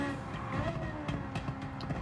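Steady engine roar from a mini LMP race car with a Suzuki VGT engine swap in Gran Turismo 7, climbing under load, holding a continuous drone with slight pitch shifts.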